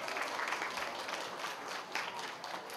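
Guests at a child's first-birthday party clap together in a short, even burst of applause, a soft continuous patter of many hands, moderately distant and unbroken by speech.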